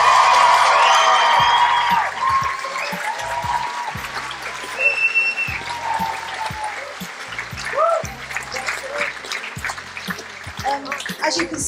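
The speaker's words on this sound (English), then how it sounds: "Give them another round of applause." An audience at a youth stage production's tenth-anniversary Friday performance gives the cast a sustained round of applause, a dense wash of clapping with a few scattered cheers, while a voice speaks over it.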